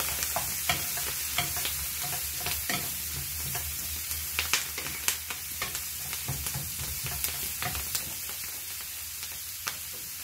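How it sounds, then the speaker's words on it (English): Brussels sprouts and bacon fry in a pan with a steady close sizzle and crackle, with scattered pops and stirring scrapes throughout; no talking. "Okay, Brussels sprouts in the pan if you just want to have a look."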